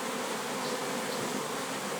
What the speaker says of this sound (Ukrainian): а бджола працює. Бджола працює, це просто пісня.